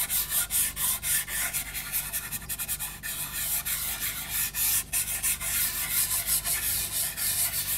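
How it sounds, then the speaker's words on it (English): White Derwent pastel rubbed over a drawing makes a steady, close scratchy rubbing with quick back-and-forth strokes repeating throughout, no voice present. "I'm just going to rub the white over the top of most of that."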